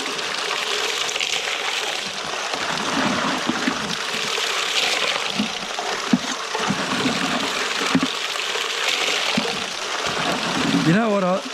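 Slaty Creek runs as a steady, close rush of water, flowing and gushing without break from start to end, with no talk over it.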